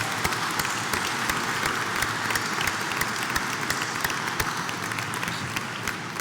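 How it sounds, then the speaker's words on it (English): Sustained applause from a graduation ceremony crowd for school board trustees, a dense, even wash of many hands clapping with sharp individual claps standing out, continuing at steady loudness throughout. "Please join me in a round of applause."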